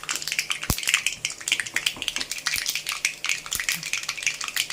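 Mustard seeds splutter in hot oil with a dense, close crackle. A few sharper pops stand out from the steady sizzle. No one talks.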